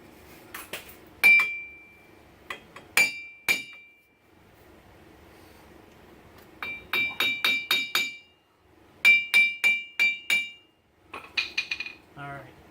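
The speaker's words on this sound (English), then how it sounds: "Just grab a normal hammer." A normal hammer taps out the hub assembly on a 2004-2008 Ford F150. Sharp metallic clinks and rings come in quick bursts, some single strikes and some rapid runs of five or six, with quiet gaps between the groups.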